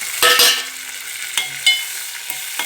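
Tomatoes going into a pan of sizzling eggplant curry, with a few sharp clattering stirs of a spoon against the pan over a steady background frying hiss.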